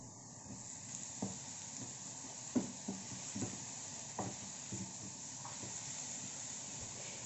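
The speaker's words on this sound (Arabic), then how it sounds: "عندي هنا طاسة حطيت فيها معلقة سمنة صغيرة، وهبتدي احط بصلاية متوسطة اشوحها بس تشويحة صغيرة" A medium onion fries in a small spoonful of ghee in a frying pan, giving a steady, soft sizzle with occasional light knocks from stirring.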